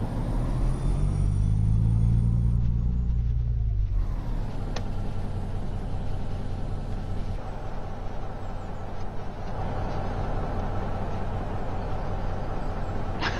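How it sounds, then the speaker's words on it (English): A truck in a modded driving game bounces and rumbles with a heavy, continuous low drone, a deep swelling lurch near the start, then a loud steady engine rumble with occasional knocks. "Here we go again with the bouncing truck."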